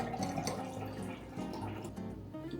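Water is poured steadily into a pressure cooker, a continuous splashing rush heard at close range with a faint tonal hum running underneath.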